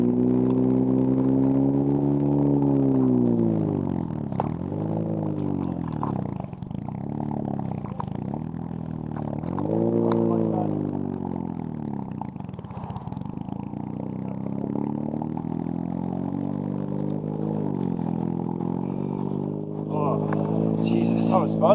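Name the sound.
rally car driving with worn clutch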